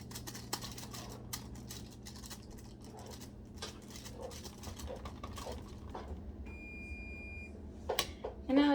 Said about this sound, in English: so the oven beep